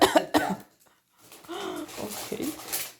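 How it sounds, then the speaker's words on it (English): Two forceful coughs come close together at the start, followed by a pause and then a stretch of murmured voices and movement in a medical exam room. "Give me a big cough."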